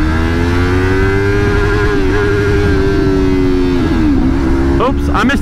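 Motorcycle engine running loud and steady while riding, its droning pitch dipping and rising as a gear is missed and shifted, with a couple of short clicks near the end.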